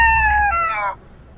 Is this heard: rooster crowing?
yes